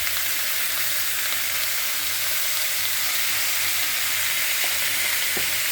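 Onions and tomatoes fry in oil with salt, giving a continuous close, loud sizzle with a steady hiss and a few faint clicks from stirring. No one speaks.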